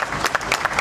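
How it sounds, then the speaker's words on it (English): An audience claps in welcome for a Standard Chartered Bank CEO at a plant commissioning ceremony in Ghana, a brief, steady burst of crowd applause with no talk over it. "A round of applause"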